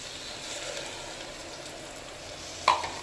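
Potato pulao paste being stirred in a pressure cooker, a steady close sizzle and frying hiss with faint scraping, ending in one brief clatter, with no talking.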